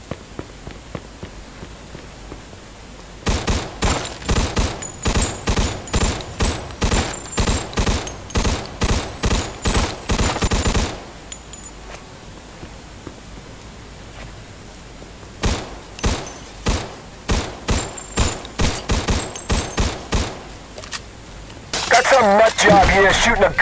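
Gunfire in the Mafia 2 video game: two long runs of rapid, evenly spaced shots crack loudly, separated by a quieter pause, with a sharp metallic clatter at the end.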